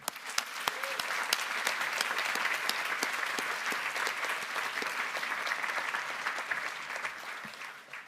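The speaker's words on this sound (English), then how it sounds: "can we get a round of applause for your teachers, parents, and everyone else who has helped you" Graduation audience at a 2021 high school ceremony claps steadily for about eight seconds, a dense, even wash of many hands from a sizable crowd with no pauses.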